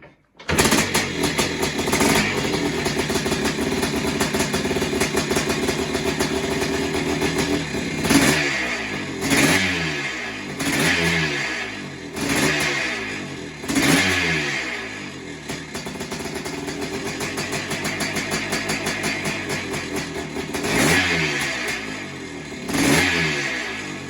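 A 1987 Yamaha YZ490T motorcycle engine fires up and runs loud and close, with repeated sharp throttle blips rising and falling over a steady two-stroke idle.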